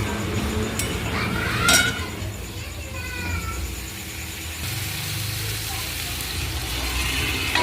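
Fish heads fry in hot oil in a home kitchen pan, a continuous sizzle under a low background hum with a few clinks of a utensil stirring; a voice talks faintly in the background.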